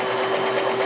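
A serviced Sears Kenmore 158 series sewing machine running a zigzag stitch through denim, a steady rapid mechanical whir with a fast even needle rhythm, loud and close, alone.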